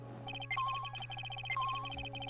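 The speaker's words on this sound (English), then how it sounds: "That's the sound of the metal detector signal bouncing off something metallic." Metal detector in a Phoenix Wright video game beeps in rapid, evenly spaced electronic pulses with two higher sliding tones, running steadily throughout over a constant low hum.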